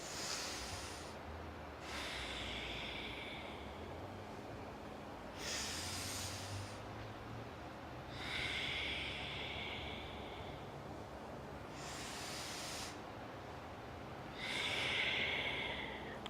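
Deep breathing during a chair yoga session, slow audible inhales and exhales alternating in long even cycles, soft and close over a faint background hum.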